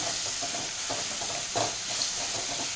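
Ground masala being stirred and fried into methi rice in a pan, a steady close sizzle and hiss with soft spoon scrapes and occasional louder stirring bursts, no voices.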